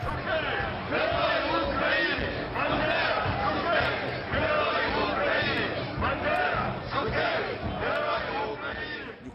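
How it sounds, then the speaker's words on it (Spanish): A large crowd cheers and chants for a national hero at a Ukrainian commemoration, with loud, continuous roaring voices in rhythmic swells. "mientras se vitorea al héroe nacional"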